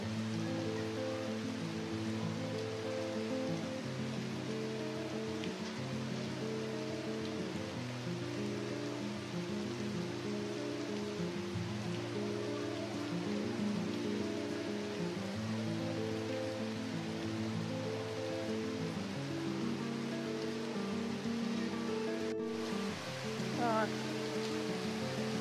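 A waterfall pours over a rock face in a steady, broadband rush that runs unbroken and fairly close, with a brief click near the end and no voices.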